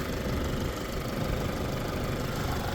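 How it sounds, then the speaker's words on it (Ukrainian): A 2019 Alfa Romeo Giulia engine idling smoothly at close range, a constant rumbling hum with no other sounds. "Двигун працює рівно, зауважень немає."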